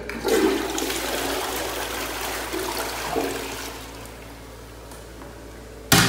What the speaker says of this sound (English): Toilet lid opens and closes correctly, and the toilet operates correctly